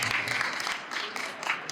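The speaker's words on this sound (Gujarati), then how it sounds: "તાળી તો વગાડો એમના માટે." An audience claps at a Jain congregation's celebration in Palanpur, a dense burst of applause that carries on steadily for the short stretch without pause.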